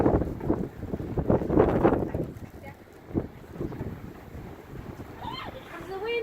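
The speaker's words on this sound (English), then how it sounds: "Here comes the wind." Strong wind gusts buffet the microphone outdoors at a house with a rumbling, roaring rush that swells and fades, while people talk and exclaim over it.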